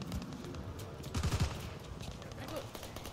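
Rapid bursts of gunfire crackle in the video game Call of Duty: Vanguard, fairly faint and mixed with other game noise and speech.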